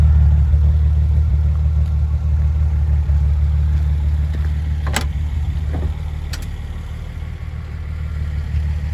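A 1973 Datsun 240Z with a rebuilt Weber-carbureted engine idles, heard close at the muffler as a steady, deep exhaust burble with a couple of brief clicks partway through.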